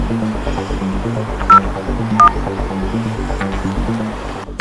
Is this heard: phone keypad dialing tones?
yes